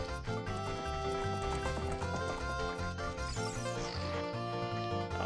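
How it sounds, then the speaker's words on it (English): A horse gallops with rhythmic clip-clop hoofbeats in the video game Zelda: Ocarina of Time, set against a busy musical score that plays throughout. "Oh really? I gotta use this horse?"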